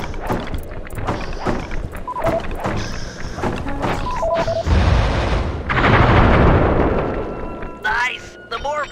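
Fireworks blast in the Sly 3 Honor Among Thieves game, a loud, dense run of explosive bursts and crackles mixed with game effects, ending in whistling rockets.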